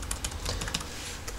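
Rapid clicking keystrokes on an Acer Aspire One 522 laptop keyboard, close and distinct, a quick irregular run of light taps with no talking.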